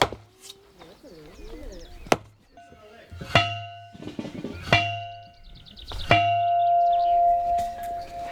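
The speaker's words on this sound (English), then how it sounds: "The bells are ringing." Metallic strikes ring out a few times, each leaving a sustained bell-like tone that lingers, with people talking and laughing nearby in between.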